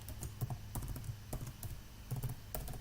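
Fingers tap out a password on a computer keyboard in a short run of quiet, uneven key clicks, close by and with no one speaking.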